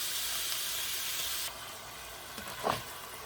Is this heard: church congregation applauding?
no